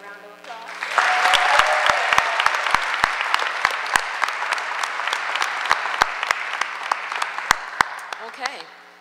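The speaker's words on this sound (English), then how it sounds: "Another round of applause." Applause from the audience at a Board of Education meeting, a dense sustained wash of clapping that swells and carries on for several seconds, with sharp individual claps standing out near the microphone.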